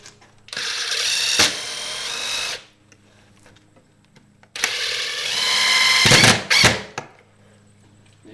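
Power drill driving screws at the centre of a window frame during a window installation at a home, two long whirring runs separated by a pause, loud and close, each ending with short bursts.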